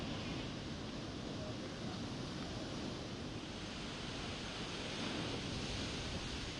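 Sea waves wash onto Worli beach in Mumbai during the monsoon, making a steady, distant roar of surf mixed with wind noise. The hiss holds constant at low volume with no distinct breaks.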